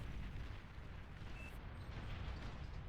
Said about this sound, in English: This bombing run is gonna be